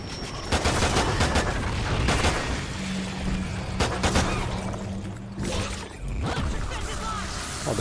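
Gunfire in Call of Duty: Ghosts Extinction, mostly sharp pistol shots with bursts of other weapons. It is loud and fairly continuous over a constant game background, with no talking.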